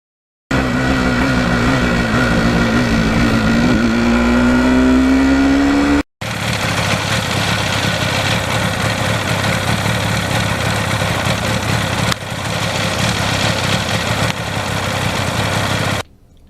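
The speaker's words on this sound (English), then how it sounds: "the bike really runs great with the stock exhaust" A 1977 Yamaha RD400 two-stroke motorcycle on its stock exhaust runs loud and close, with a steady buzzing drone and a rising pitch as it revs, then a brief cut and continuous riding engine noise.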